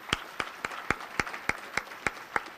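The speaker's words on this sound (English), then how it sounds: "if we can give them a round of applause" Applause at a student awards banquet, heard as nine sharp, evenly spaced claps, close and fairly loud, with no talking over them.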